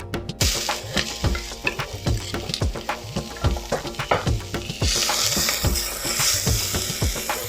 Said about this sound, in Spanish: Ahora caliento un poco de aceite vegetal en una cacerola y luego agrego la cebolla y el ajo